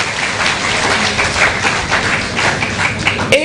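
A room full of people at a Ghanaian gathering of agents breaks into steady, lively applause, dense clapping close and even throughout with no speech over it.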